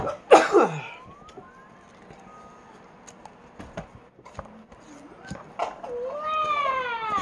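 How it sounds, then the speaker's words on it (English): A man coughs in one close, harsh burst right at the start, followed by quieter scattered rustling and a rising tonal wail near the end. "I keep coughing."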